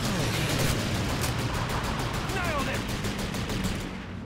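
Dense rapid gunfire in the World War II shooter game Call of Duty 2, a loud continuous rattle of many shots with battle noise, steady and close.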